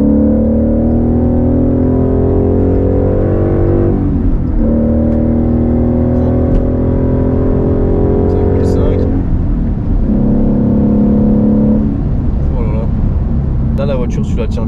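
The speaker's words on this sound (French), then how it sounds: "Je prends plaisir à écouter le moteur" Ford Mustang 5.0 V8 engine rumbling and revving up through several rising pulls, steady and loud from inside the car, with a person talking over it.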